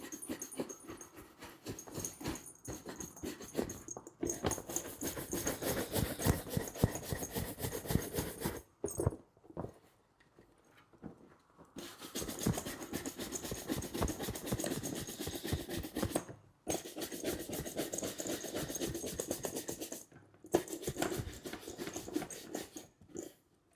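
Leather is brushed briskly to raise a shine, a close rhythmic run of quick scratchy strokes in bursts of several seconds, broken by short quiet pauses.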